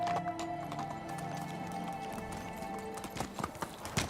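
Horse hooves clip-clop at a gallop in the medieval survival game Medieval Dynasty, a steady rhythmic beat under background game music, with a few louder hoof thumps near the end.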